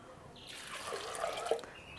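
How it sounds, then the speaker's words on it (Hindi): Water poured from a bowl into lentils (dal) soaking for Sindhi dal pakwan, a steady close splashing pour that swells and continues for about two seconds, with no talk. "आधा बॉल अपना पानी और डाल दें"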